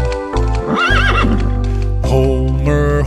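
A horse neighs and whinnies loudly within a children's song, with sung music and steady clip-clop hoofbeats around it, the whinny rising and wavering for about a second before the music carries on.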